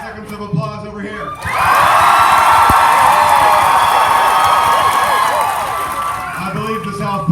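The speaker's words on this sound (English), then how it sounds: "5 seconds of applause over here." Loud crowd applause and cheering at a pun-off competition at the O. Henry Museum, rising sharply after a moment of murmur, holding a dense sustained roar with whoops for several seconds, then tapering slightly.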